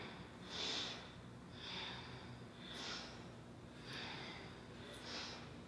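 Rhythmic breathing during Kundalini yoga arm ripples, with five breathy airy inhale-exhale pulses at roughly one-second intervals, close and soft, with no talking.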